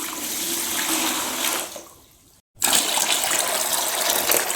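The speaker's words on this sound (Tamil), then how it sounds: "ஒரு 2 லிட்டர் அளவுக்கு தண்ணி இதில் ஊற்றிக்கலாம்" Water gushes into a bucket in a steady, loud, close rush, briefly thinning and dropping out before resuming at full force, about two litres poured for making homemade liquid soap.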